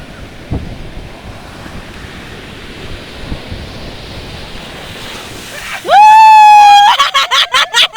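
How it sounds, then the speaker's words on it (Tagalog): Steady wash of surf and wind roars throughout, with an occasional heavier surge of water; a loud tonal horn-like blare breaks in near the end. "ang lakas ng alon"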